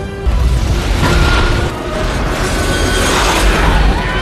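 A time machine exploding as a film sound effect, a loud sustained blast of broadband roaring and crashing debris that rumbles on without letup for several seconds.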